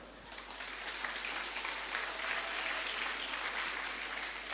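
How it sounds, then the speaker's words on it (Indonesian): Dense, steady applause from a crowd of students and guests at an Islamic kindergarten and Quran school graduation ceremony in Tanah Bumbu, moderately distant and continuous over a low steady hum, with no speech. "Tepuk tangan dong"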